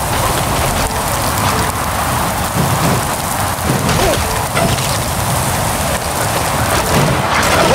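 Heavy, steady rain pours during a storm in the Riders Republic video game, a dense constant hiss with scattered cracks and faint low rumbles throughout.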